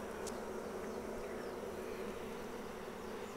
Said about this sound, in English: Oh, and there's the queen bee.